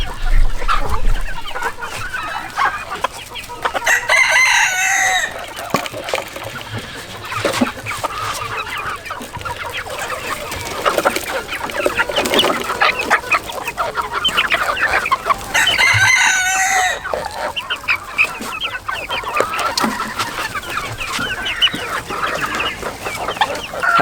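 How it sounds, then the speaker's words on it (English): Hens cluck and chatter inside a chicken coop, with two loud bursts of rooster crowing rising above the steady, close flock noise and no voices. "Oh, there's the hen."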